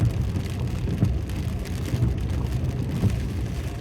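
Heavy rain drums steadily on a moving car on a mountain road, a dense continuous patter of drops over the low rumble of the vehicle inside the cabin.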